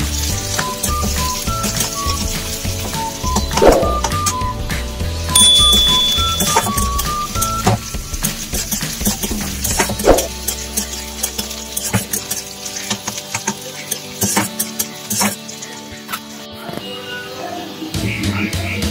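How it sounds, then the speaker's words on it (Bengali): Onion fries in hot mustard oil in a wok, a sizzling hiss with scattered clatters and tapping, faint voices behind, the frying fading out partway while other kitchen noises go on. "সর্ষের তেল গরম হয়ে গেলে দিয়ে দেবো পেঁয়াজ।"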